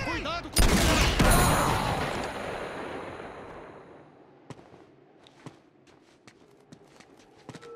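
Uncharted 2 gunfire opens with a loud burst of shots, followed by a decaying roar and then scattered sharp single shots and clicks at a distance.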